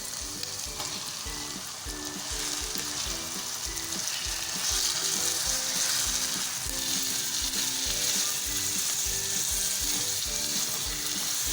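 Half a kilo of beef mince fries with ginger garlic paste in a pan, a continuous close sizzle with rhythmic scraping and stirring strokes throughout, no talking.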